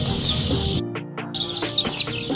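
Young chicks cheep and peep in a noisy chorus with short sharp calls, broken by a brief quiet gap, while being debeaked one by one with a hot iron blade.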